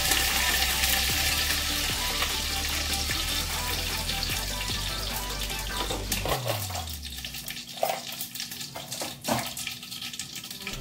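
Curry leaves hitting hot oil for a tempering with fenugreek and cumin, a loud, dense sizzle that crackles close up, then tapers to a quieter hiss with a few sharp pops.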